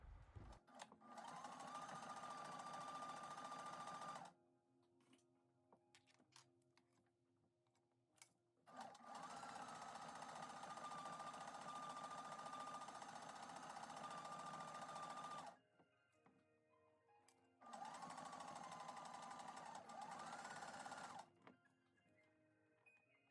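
A sewing machine zigzag-stitches around a coiled clothesline-rope fabric basket in three steady runs of rapid, close mechanical whirring, each separated by quiet pauses.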